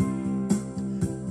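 A Yamaha PSR-EW425 keyboard with its Standard master equalizer plays a short, bright pattern of repeated chords and notes in a quick, even rhythm, close and moderately loud.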